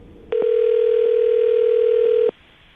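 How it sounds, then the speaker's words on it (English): A telephone line gives a steady, loud dial tone lasting about two seconds, then cuts off abruptly, with no voices over it. "I'm going to dial this phone number right now"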